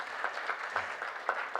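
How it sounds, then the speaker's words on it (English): A conference audience at a panel session in Mumbai applauds, a brief, quiet patter of clapping heard from a distance. "Let's give them a big round of applause"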